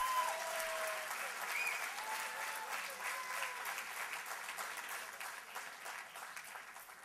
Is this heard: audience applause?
yes